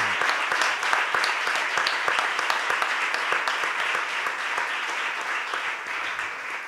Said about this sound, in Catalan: vull fer un aplaudiment per ells dos, per el Toni i l'Àngela